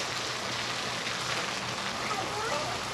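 Water spraying from a farm irrigation line, a soft steady hiss like falling rain, fairly quiet and constant with a faint low hum beneath.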